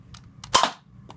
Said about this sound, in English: gonna hold the blaster while I test fire against the target